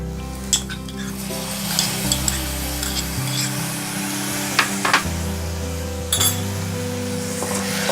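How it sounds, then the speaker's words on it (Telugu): Golden fried onions with ginger garlic paste stirred in a pan for a small round potato fry, making a steady close sizzle with scattered spoon clinks and scrapes against a low humming background. "ఇలా కింద మీదకి కలుపుకుంటూ ఉండాలి."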